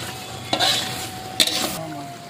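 Masala being stirred in a pan with Kashmiri chilli frying in hot oil: two bursts of scraping stirring over a steady sizzle, close and alone.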